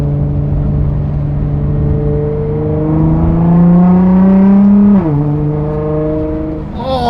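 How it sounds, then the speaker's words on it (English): A widebody Nissan GT-R on a dyno revs loudly under load, its engine tone climbing steadily. It drops sharply as the throttle closes and the blow-off valve vents with a brief whoosh, all close and loud with wind noise. "Oh, that blowout valve."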